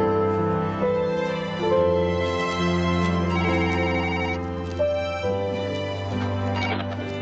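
A public telephone rings in a drama scene, producing a steady, sustained electronic ringing tone that continues throughout with no talking over it.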